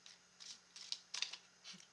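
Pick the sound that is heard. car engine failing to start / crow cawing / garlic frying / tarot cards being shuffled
tarot cards being shuffled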